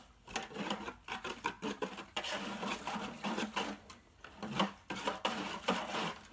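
Whisk scraping and clicking in quick, uneven strokes against a bowl as powders dissolve for homemade laundry detergent, close but quiet, with no talk.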